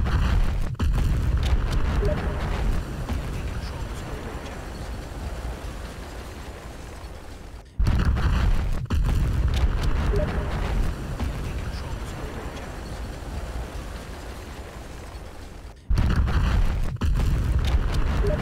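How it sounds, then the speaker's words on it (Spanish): Explosions in the video game Battlefield 1, seen from the deployment menu, make loud, rumbling roars. The same blast sequence repeats three times, each one dying down gradually before the next sharp onset. "quiero que miren estas explosiones desde el menú de despliegue"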